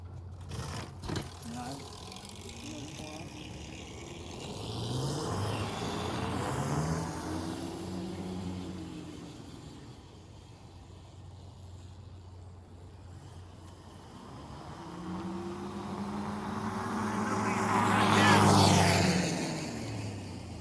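A minibike engine revs at full throttle on power setting 2, a rising and falling motor whine that swells twice, with someone talking over it.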